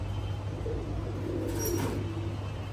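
Domestic pigeons, a loft of fancy pigeons including red Gola birds, coo softly against a steady low hum, with a brief brighter sound in the middle.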